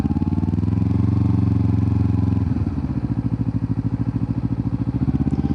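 A motorcycle in second gear at around 15 to 20 mph, practicing turns in a parking lot: a steady, close, loud engine drone with a rhythmic pulsing beat, its tone shifting midway as the throttle changes.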